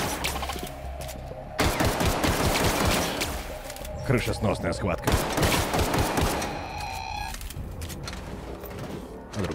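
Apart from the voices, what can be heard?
gunfire in a video game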